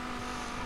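Dodge Viper engine in the racing game The Crew, a steady, loud continuous drone with a strong hum, held without a break and with no voices.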